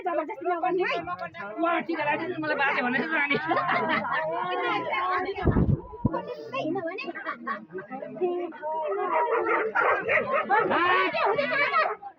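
Dogs bark and yip in short bursts among a group of people chattering close by, the voices running under and between the barks throughout.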